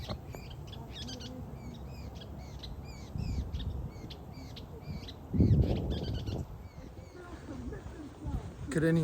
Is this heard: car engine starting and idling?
no